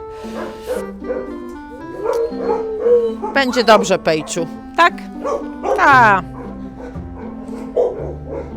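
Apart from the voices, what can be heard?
dog barking at an animal shelter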